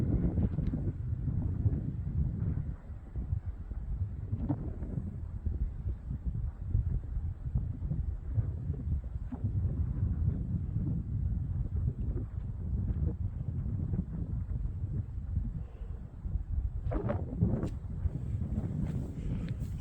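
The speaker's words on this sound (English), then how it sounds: "I don't know how much the wind is affecting you guys." Wind buffets the microphone outdoors at the ruins of Ogmore Castle, a continuous low rumbling roar with gusty swells throughout and a few faint knocks, no talking.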